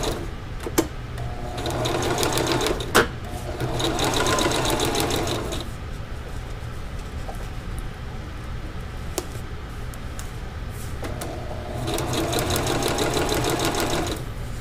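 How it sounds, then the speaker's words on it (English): A sewing machine stitches through two layers of underquilt material for a camp chair, running in steady loud rhythmic bursts close by, with short pauses between runs and no talking. "because I'm sewing through two pieces of material, it tends to want to move"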